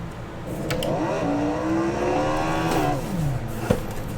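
Race car engine in the Assetto Corsa video game at Monza, 1966 setting, accelerating through the gears, its rising whine stepping up repeatedly over a steady loud roar, with a brief sharp knock near the end.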